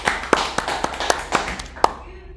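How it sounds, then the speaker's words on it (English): A small class gives a round of applause in a programming lecture: a handful of sparse, uneven claps and taps, close by, that taper off after about two seconds. "Let's give the first group a round of applause."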